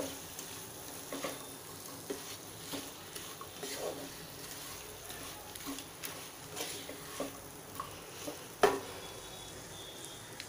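Vegetables and onion fry in oil for Maharashtrian masale bhat, a soft continuous sizzle with occasional spoon scrapes and stirring clinks under a steady background hiss.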